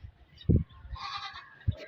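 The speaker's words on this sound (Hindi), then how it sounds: "और ये बकरी है।" A goat offered for sale in Karachi bleats twice, a loud close bleat followed by a shorter one, with faint background noise between.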